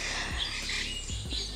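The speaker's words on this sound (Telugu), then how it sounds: "ఆ పిట్టల అరుపులు చూసారు ఎంత బాగున్నాయో" Birds chirping beside the Kerala backwaters, with brief tweets and calls over a steady, hissy outdoor ambience for under two seconds, with no voices.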